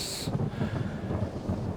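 Thunderstorm in the video game Planetbase: low, continuous rumbling thunder rolls under a rain-like hiss, fairly loud and unbroken, with a brief high tone fading out at the start and no talking.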